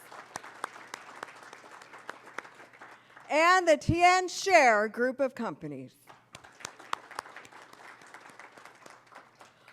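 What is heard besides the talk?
audience applause for sponsors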